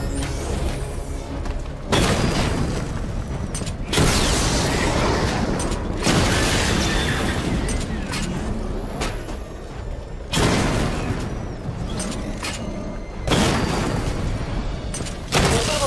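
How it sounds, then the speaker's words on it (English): Heavy weapon fire and booming explosions blasting targets in Batman: Arkham Knight, loud repeated bursts separated by short lulls in a rhythmic pattern. "Destroy targets to charge up weapon energy and activate missile barrage"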